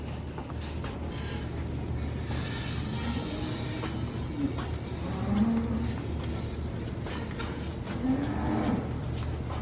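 A show cow on a farm moos in low, drawn-out calls, two or three of them spread across the stretch over a steady background rumble, with no talk.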